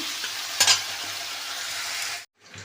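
Fish frying in a pan in a Bengali kitchen while bottle gourd for lau ghonto cooks alongside: a steady loud sizzle with a brief stirring scrape, then a sudden cut to near silence before the sizzle resumes.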